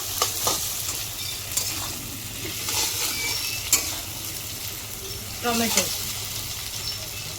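Tomato drops into fried onions in a pan, raising a steady sizzle with stirring scrapes and a few clinks of utensils against the pan.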